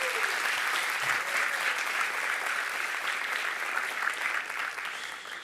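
Sustained applause from a church congregation honoring two participating children, a steady dense clapping that stays loud and even throughout, with no speech over it.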